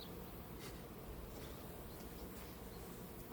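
Honey bees buzzing at an opened hive during a varroa mite check, a dense, steady hum of many insects close by, fairly faint overall and unbroken by talk.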